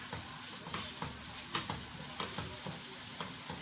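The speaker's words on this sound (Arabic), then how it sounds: "اكمل تحمير البصل" Onions frying in a pot for koshari, a steady close sizzle with occasional soft stirring clicks and scrapes over the hiss.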